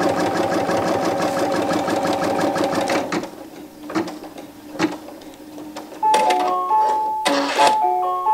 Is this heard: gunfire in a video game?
no